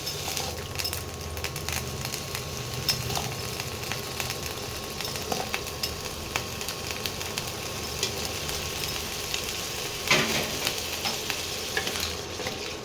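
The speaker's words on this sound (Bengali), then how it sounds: "সেই আলুগুলোকে ভেজে নেব" Potato pieces fry in hot oil in a wok, giving a steady, close sizzle and crackle with occasional scraping bursts from stirring, and no voices over it.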